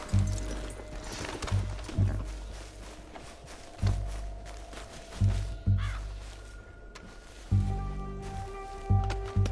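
A horse in a video game gallops with heavy rhythmic hoofbeats in repeating bursts about every two seconds, loud and close, alongside game ambience and faint bird caws.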